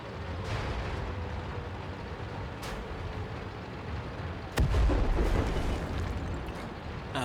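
A tank cannon shot from an Aufklärungspanzer Panther in a tank battle game, one heavy booming blast cutting through steady engine rumble, with fainter distant reports before it.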